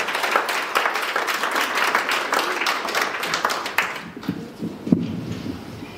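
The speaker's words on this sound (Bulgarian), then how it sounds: "Аплодисменти." Sustained audience applause at a business awards event, steady and fairly loud for about four seconds, then dying away into a few stray claps and soft background sounds.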